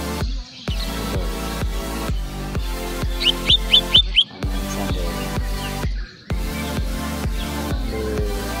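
Songbirds, including a murai batu (white-rumped shama), chirp at a bird market, with a quick run of high, sharp whistled calls standing out near the middle above a dense, steady, rhythmic background of pulsing music or noise.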